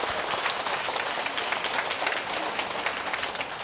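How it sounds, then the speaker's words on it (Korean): Audience applause at a Catholic family-spirituality retreat talk given by a priest: dense, continuous clapping from many hands filling the room for several seconds. "박수 좀 쳐주세요"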